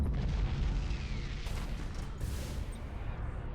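Nova Cannon salvos in Battlefleet Gothic: Armada 2 thunder as sustained, loud, low booming blasts with a continuous rumbling roar and no talk over them.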